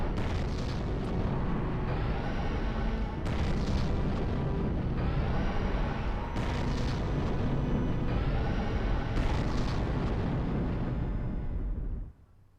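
Fire cannon blasts in a 4th-person mecha game, repeated heavy booms roughly every three seconds over a dense continuous roar, loud and close, ending abruptly in near silence.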